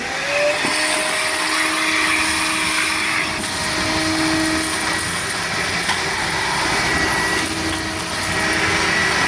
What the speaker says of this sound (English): I take the vacuum that's next to me that we've already worked on, and I like to suck out all this crap in there